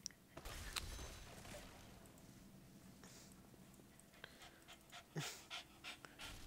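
A dog pants steadily and close, a continuous rough breathing rhythm over a busy background with a few clicks and ticks, no talk.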